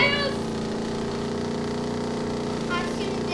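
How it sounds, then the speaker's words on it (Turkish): Steady, droning boat motor hum in Goat Simulator, holding an even pitch throughout at moderate loudness, with a few brief higher tones over it near the start and end. "Teknenin müthiş motor sesi var."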